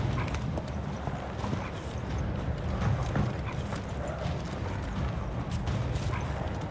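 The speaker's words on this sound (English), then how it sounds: "I hear doggy." A dog barks in Final Fantasy XVI while clopping hoofbeats and game ambience continue underneath. The barks are moderately loud and scattered across the steady background.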